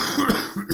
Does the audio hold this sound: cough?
yes